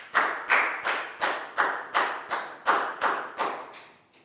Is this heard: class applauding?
yes